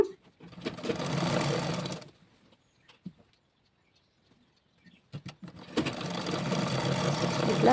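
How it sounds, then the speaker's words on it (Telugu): A sewing machine stitches the waist edge of Punjabi dress pants in two close, loud runs of rapid whirring, separated by a quiet pause with a few small clicks and handling sounds. "ఇలాగా ఫస్ట్ కొనకు మడుచుకొని కుట్టేసుకోవాలి నడుము దగ్గరదనమాట"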